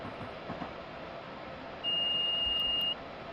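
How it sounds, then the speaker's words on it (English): A steady electronic alarm beeps in a rapid pulsing pattern for about a second over a low rumbling train cab background, in a Northeast Corridor train simulator game. "We've been given an alarm."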